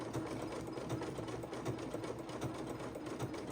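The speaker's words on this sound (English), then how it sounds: "with a stretch stitch, the machine just goes backwards and forwards" A sewing machine runs a stretch stitch on knit fabric, its needle chattering in a rapid, even rhythm that stays close and steady throughout, with no talking.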